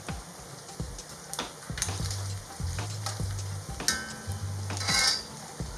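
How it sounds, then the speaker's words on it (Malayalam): Dried red chillies fry in hot oil in a pan for a lemon pickle, close up, with a steady sizzle, sharp clinks and scrapes from a stirring utensil, and a brief spattering burst near the end; no talking. "നമ്മൾ എടുത്ത് വെച്ചിരിക്കുന്ന വറ്റൽമുളക് ഇതിലേക്ക് ഇട്ട് കൊടുക്കുക."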